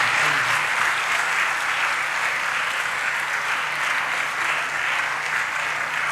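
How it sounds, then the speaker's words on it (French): Sustained applause from students and audience at a school event with the governor of the central bank, a dense, steady wash of many hands clapping at even volume with no voices standing out. "Nous pouvons nous applaudir tous"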